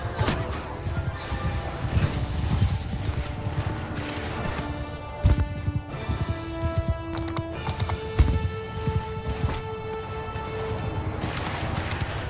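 Horse hooves pound in a cavalry charge during a Mount & Blade 2 Bannerlord battle, a dense, continuous clatter of galloping mixed with crashes and battle noise, loud throughout.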